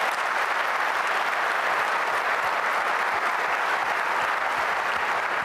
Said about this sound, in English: How about a round of applause for the board?